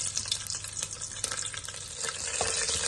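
Green chilli, cinnamon bark and fennel seeds fry in hot oil and ghee for ghee rice, giving a steady, close crackling sizzle with occasional stirring scrapes and no talk.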